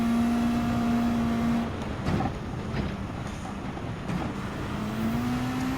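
A race car in the Gran Turismo 7 video game at a Sardegna windmill circuit, its engine holding a steady, loud drone that drops in pitch under braking and rises again as it accelerates.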